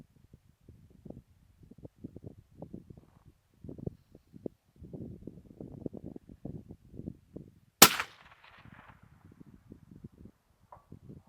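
A single 6.5 PRC rifle shot with 143 grain Norma ammunition, fired at a 700 yard target in Cameo, Colorado: one sharp, loud crack with a short decaying tail, standing out from low rumbling background noise.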